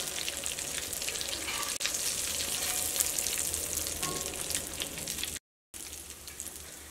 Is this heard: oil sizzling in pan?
yes